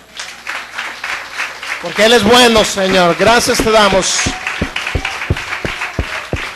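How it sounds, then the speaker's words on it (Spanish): A church congregation at a Spanish-language service claps along in rhythm while a preacher speaks loudly over them, the applause dwindling to a few scattered claps after the talking stops. "Denle un fuerte aplauso al Señor"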